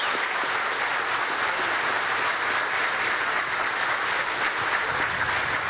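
Sustained applause from a large audience at a political event, dense and steady clapping that fills the whole stretch without letting up.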